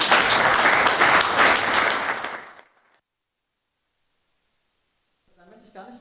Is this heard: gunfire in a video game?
no